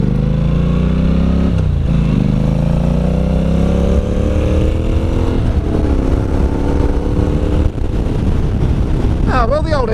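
A Honda NC750X motorcycle is ridden with a loud, steady engine drone under heavy wind noise, its pitch rising and falling through gear changes and acceleration.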